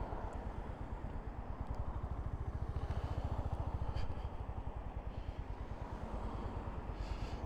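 A Honda GB350 single-cylinder motorcycle burbles while being ridden, a low, even thumping exhaust pulse that stays steady and close throughout, with faint wind in the background.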